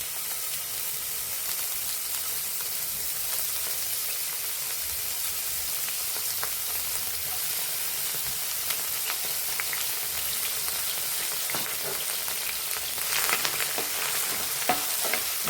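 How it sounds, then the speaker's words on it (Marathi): Finely chopped onion fries in a few spoonfuls of oil, giving a soft, steady sizzle that stays even and close for a long stretch. Light stirring scrapes rise briefly near the end. "गोल्डन कलरवर चांगला परतून घ्यायचा कांदा पण।"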